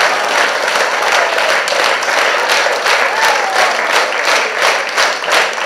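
Dense, sustained applause from a concert audience at a music school's 90th anniversary evening, following a duet's two songs; a steady loud wash of many clapping hands without pause.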